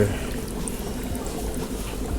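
Water is poured steadily to refill a guppy breeding tank, a continuous close trickling and splashing that runs throughout without pause, with low background noise underneath.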